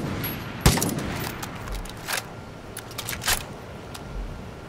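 Gunfire in a Far Cry 5 co-op session running a GoldenEye 007 Nintendo 64 mod: one sharp loud shot followed by scattered fainter bursts and pops over a low background rumble.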